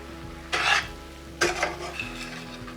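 A ketchup mixture stirred in a pan, two short scraping swishes of a utensil against the pan about a second apart over a quiet background, no talking.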